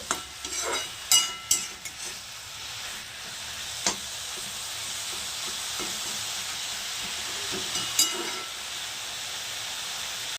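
Pumpkin leaves frying in oil in a pan, a continuous close hiss of sizzling, with a cluster of spatula scrapes early on and a few later stirring knocks.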